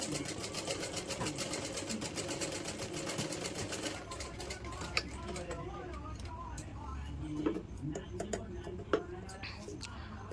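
A sewing machine stitches a hook strip onto a blouse, its fast, steady mechanical whirr and ticking running for about four seconds before stopping, followed by quieter handling clicks while someone speaks throughout.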